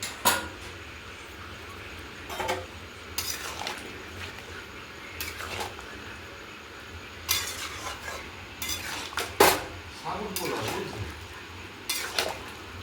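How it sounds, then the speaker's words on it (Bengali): Shukto, a Bengali vegetable stew with milk added, stirred in a pan: intermittent spoon scrapes and clinks against metal over a faint simmering sizzle, fairly quiet and close. "দুধ দিলাম, দাঁড়াও একটু নেড়ে নিই ভালো করে।"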